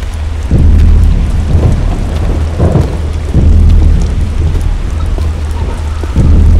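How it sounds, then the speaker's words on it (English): Heavy rain and rolling thunder from a storm in the horror game Slender Rising 2, a steady loud downpour with repeated deep rumbles swelling every second or so, no voices. "The storm is my enemy."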